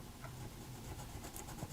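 A Naples yellow colored pencil drawing circles on paper gives a faint, steady, soft scratching close by, with nothing else over it.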